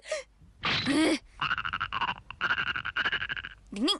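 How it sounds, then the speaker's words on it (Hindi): Cartoon frog croaking in a rapid run of bright, rhythmic ribbits, with gasp-like cartoon voice sounds before and after, close and loud with no talk. "मेंढक की आवाज।"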